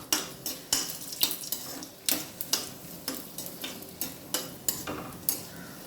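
Chili sautéing in a pan for a beetroot chutney, with a metal spoon repeatedly clinking and scraping against the pan in a steady rhythm, close and clear, and no talking.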